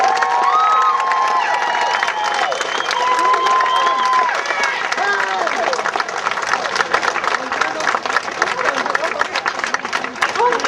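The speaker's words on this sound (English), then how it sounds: "And give them a big round of applause." Crowd applause and cheering at an Adopt-A-Soldier homecoming event in Peotone, with voices and children's shouts mixed into steady, loud clapping that continues throughout.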